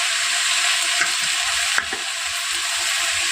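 Onion greens and cumin powder fry in a pan with fish oil, giving a loud, steady hiss throughout with a single sharp utensil knock midway.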